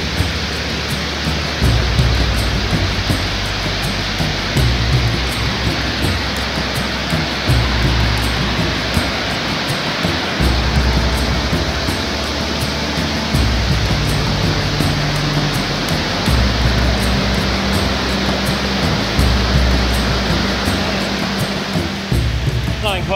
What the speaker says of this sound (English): Flowing quite well, the waterfall down there.